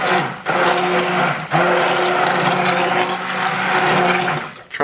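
A stick blender whirs through thickening cold process soap batter with fragrance added, a loud continuous motorized drone with short cut-offs where the motor pauses, then a brief rattle as it stops.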